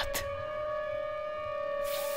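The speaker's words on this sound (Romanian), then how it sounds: "Se aude și sirena." Tornado warning siren in the Minecraft Weather and Tornadoes mod, a steady wailing tone holding loud and unbroken throughout, with brief bursts of wind or debris noise near the start and end.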